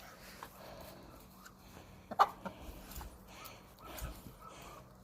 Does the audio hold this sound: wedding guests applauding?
no